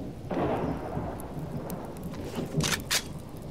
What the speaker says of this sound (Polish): jak widać burza